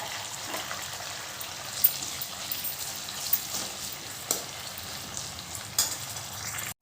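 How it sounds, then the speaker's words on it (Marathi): Tomato and onion frying in oil in a pan for sambar, a steady low sizzle with occasional light stirring scrapes and soft clinks, close and alone without talk. "तर आपण टॅमॅटो टाकणार आहोत तोही छान मऊसूत करून घ्यावा"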